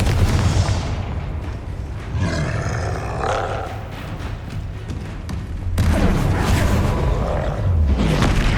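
Confringo fire spell in the Hogwarts Legacy video game, a loud roaring blast with a rumbling, sustained burst and a second surge near the end, no speech over it.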